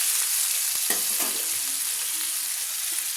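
Potatoes frying in a pan for a vegetarian drumstick-and-poppy-seed dish give a steady, close sizzle with a few soft stirring scrapes, and no voices.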